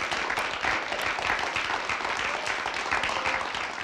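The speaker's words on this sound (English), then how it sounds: "Everyone, let's give Rita a big round of applause." Keynote audience at a tech conference breaking into steady, full applause, dense clapping that stays even throughout with no pauses.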